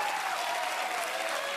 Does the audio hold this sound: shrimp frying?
no